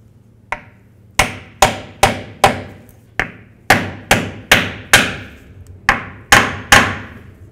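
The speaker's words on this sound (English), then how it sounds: "we're gonna continue on by driving it in." Driving a pinion seal into a Chevy S-10 differential with a hammer, about a dozen sharp, ringing metallic strikes, close and loud, in irregular bursts of two to four with brief pauses between.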